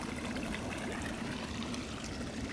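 Water gushes out as a giant clam closes on a clam farm in Palau. It is a steady, close, broadband rush of pouring and trickling water with no voices over it.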